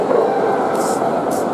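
A tired chow chow at the World Dog Show in Moscow gives soft yips and whimpers close by. The sound is faint against a busy indoor hall murmur.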